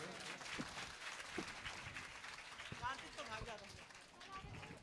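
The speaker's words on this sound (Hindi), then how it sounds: "अरे बच्चों के लिए तो ताली लगा दो।" Audience applause for children at a live religious discourse gathering, a steady broadband clatter of many hands sustained throughout, with crowd noise underneath.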